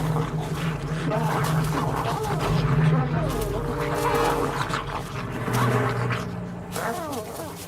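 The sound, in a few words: dogs attacking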